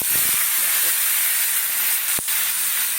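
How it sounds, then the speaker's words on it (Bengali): Pointed gourd (potol) frying in hot oil in a pan where potatoes were just fried, a steady close hiss and sizzle throughout with a brief sharp knock near the end. "ওই তেলের মধ্যেই পটল দেব"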